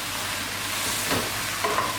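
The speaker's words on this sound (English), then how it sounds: "Stir it 1 or 2 times." Oxtail sizzles in a pot and gets stirred once or twice, a soft, steady frying hiss with a short scraping burst and a faint metallic clink near the end.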